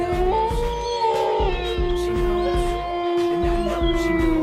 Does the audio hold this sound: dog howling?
yes